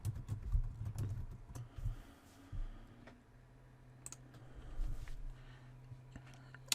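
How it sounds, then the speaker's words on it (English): Fingers type on a computer keyboard in quick, uneven bursts of soft clicks and taps, heard close and fairly faint, with short pauses between flurries and no talking. "You can just type in Google Analytics into the search box."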